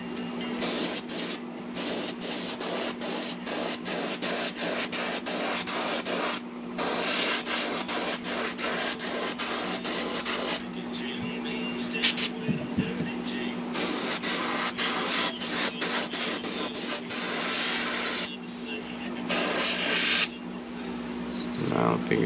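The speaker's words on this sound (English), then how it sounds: "I'm just gonna spray that straight over the white." An airbrush sprays Turbo Dork Mother Load color-shift paint over a white base coat on a fishing lure, a close, steady hiss in repeated bursts over a constant compressor hum.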